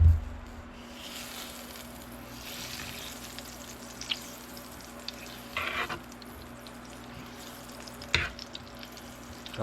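Butter sizzles gently in a preheated pan with olive oil, a low, steady hiss with a few soft scrapes and clicks, heard close and fairly quiet with nobody speaking.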